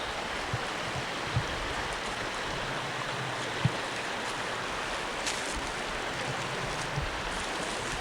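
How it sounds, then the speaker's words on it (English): A large creek in spring flood rushes steadily with a dense, even roar of flowing water, close and unbroken, with a few faint knocks and no talking. "the creek is really big this time of the year"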